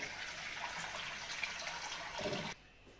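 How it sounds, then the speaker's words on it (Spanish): Running tap water rinses drained chickpeas in a kitchen, a steady close splashing flow lasting about two and a half seconds before cutting off abruptly. "Escurrimos el garbanzo y le pasamos agua limpia"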